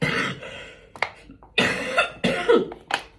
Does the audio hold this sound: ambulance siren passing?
no